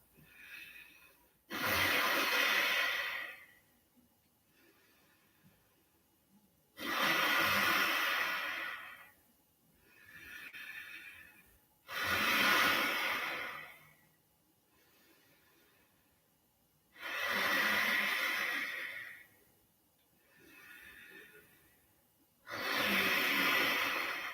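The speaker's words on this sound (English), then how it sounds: "So that's like with the ujjayi. Audible sound in your throat behind your nose." Slow ujjayi yoga breaths rasp through the throat in long hissing waves, inhale and exhale alternating with quiet pauses, close and steady.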